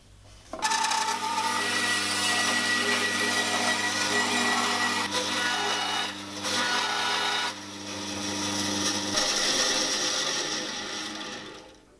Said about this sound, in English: what I'm going to do is go to my bandsaw and rough cut the shape out